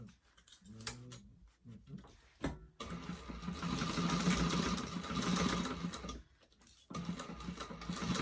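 A sewing machine stitching a 3/8 seam across the top of a backpack: a few short bursts and stops at first, then a long steady run of rapid mechanical whirring, a brief pause, and more stitching, close and clear.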